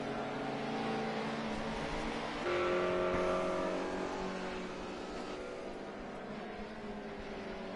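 Historic touring cars, a BMW among them, race flat out toward the finish line on the last lap, their engines a loud sustained roar that swells as they close in, then eases slightly.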